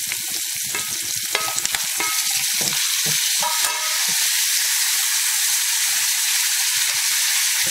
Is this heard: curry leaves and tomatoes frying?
yes